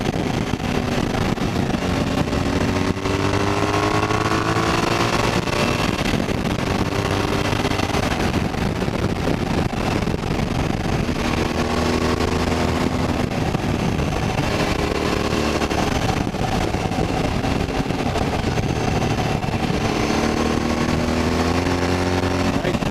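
A Suzuki V-Strom 1000 motorcycle on the road, its engine note climbing and falling as the rider accelerates and shifts, with steady wind rush over the microphone throughout.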